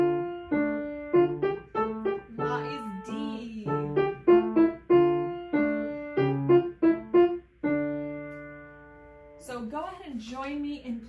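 Piano playing a Latvian folk song from a beginner method book, a simple melody with chords in moderate, slightly uneven phrases, close and clear, ending with a short spoken voice.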